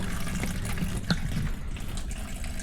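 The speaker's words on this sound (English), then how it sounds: "coolant's coming out into the bucket" Engine coolant drains from a car with an SR20DET engine into a bucket, making a steady close trickle and splash of liquid that is heard alone.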